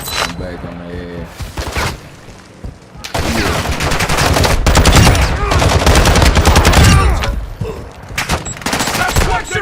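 Rapid automatic machine gun fire from Call of Duty Warzone II arrives in loud, dense bursts with short pauses. It is close and continuous, and a voice speaks briefly over it.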